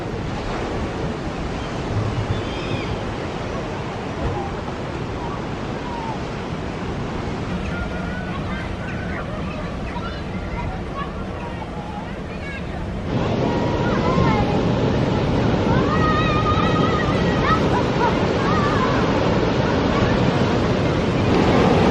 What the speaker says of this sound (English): Fancy trying to swim out against those waves. It's quite rough today, isn't it?